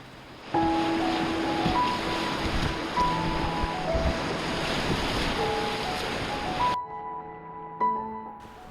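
Rushing whitewater of river rapids on Section 3.5 of the Chattooga River, a loud steady roar with wind buffeting the microphone, cutting off abruptly near the end to quieter water.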